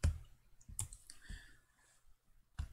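Mouse clicks while selecting faces in FreeCAD CAD software: a few sharp, close clicks spaced irregularly, with a quiet pause between the first pair and the last.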